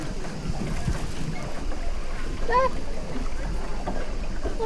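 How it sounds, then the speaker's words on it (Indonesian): Strong wind on a lake during a bamboo boat ride, a steady rushing roar buffeting the microphone throughout, with faint background voices and a brief high chirping sound midway. "Sini anginnya lumayan kenceng."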